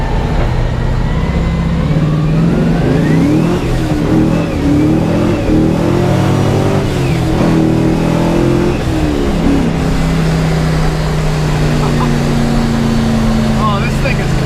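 An LS1-swapped Nissan 180sx accelerates hard, its V8 roaring loud and steady throughout, the pitch rising and falling through gear changes, heard from inside the car with a voice speaking over it.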